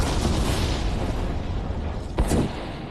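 Layered explosion effects from Pirates of the Caribbean: At World's End roar as a dense, sustained rumbling blast, with a sharp burst cutting through near the end.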